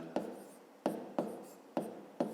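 Pen or pencil marks made while writing numbers for a grade 5 maths exercise, five short scratchy strokes spaced irregularly, close and quiet, with no talk.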